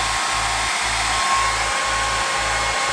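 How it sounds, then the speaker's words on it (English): A hair dryer blows steadily while drying face paint, a close, constant whooshing hum with a low rhythmic pulsing beneath it. "I recommend getting a hairdryer and just speed up the process."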